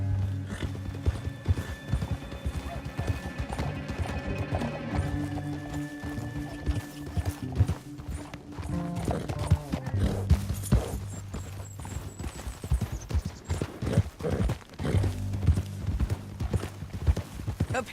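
Rhythmic clip-clop of galloping hooves with occasional horse whinnies in the video game Red Dead Redemption, set against a swelling orchestral score throughout.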